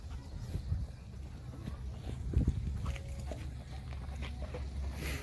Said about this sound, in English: Try not to get run over by some horses.